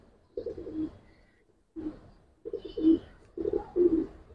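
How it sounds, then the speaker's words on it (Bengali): A female Giribaz pigeon coos up close in four low, throaty phrases, each a short rolling burst separated by brief pauses, with no talk over it. "জাস্ট মাদিটা দেখেন ভাই, 1 দশকের একটা মাদি কবুতর ভাই"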